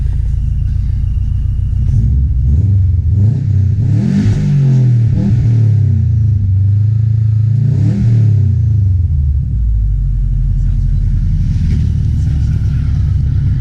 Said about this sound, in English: I'll show you what the revs sound like